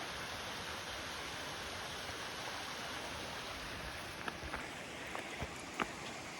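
Steady broadband rush of a waterfall beside a rocky trail, continuous and fairly even throughout, with a few faint footstep-like taps near the end.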